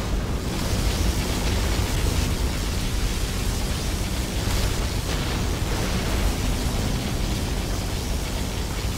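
Particle cannon firing in Command & Conquer Generals, a continuous, loud, roaring blast of rushing noise with a few surges in intensity, nothing else over it.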